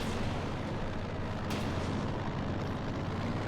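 Gunfire in the Company of Heroes 2 strategy game, a continuous low rumble of distant battle with one sharper shot standing out midway, heard without talking.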